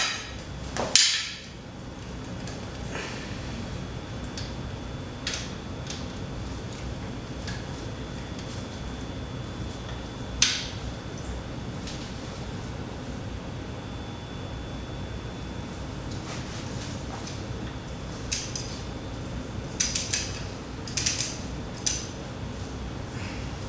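A torque wrench set to 45 newton meters tightens bolts, giving a few sharp, isolated metallic clicks spread over a steady background hiss, with a small cluster of clicks near the end.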